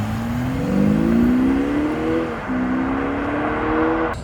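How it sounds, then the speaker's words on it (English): An Audi SQ5 TDI diesel pulls hard as boost builds, its engine and exhaust note rising in pitch, dipping briefly at a shift, then climbing again, loud and close with no speech. "when the boost kicks in, it makes a hell of a noise"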